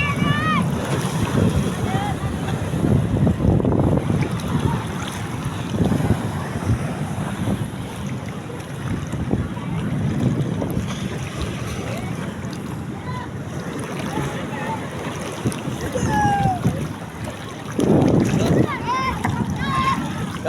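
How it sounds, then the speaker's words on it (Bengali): Large waves break on a seashore, a loud rolling surge of water with heavy wind buffeting the microphone and a swelling crash near the end, while someone talks excitedly over it. "ওই যে কত বড় একটা ঢেউ আসতেছে অনেক বড়"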